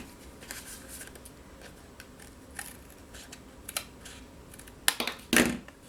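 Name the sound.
trimming a paper piece for a card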